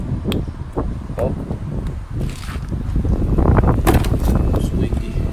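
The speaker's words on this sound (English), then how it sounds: "It's windy." Steady, rumbling wind buffets the microphone outdoors, growing stronger toward the end, with scattered handling knocks and rustles while a DeWalt DXAEC80 multi-bank battery charger is plugged into an extension.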